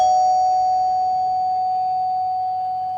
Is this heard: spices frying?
no